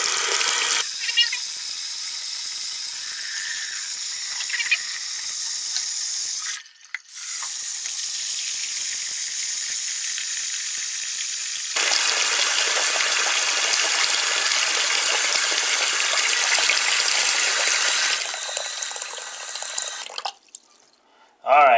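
Tap water runs hard into a kitchen sink as it fills, a steady broadband gush that pauses briefly, resumes and turns heavier partway through, then cuts off near the end.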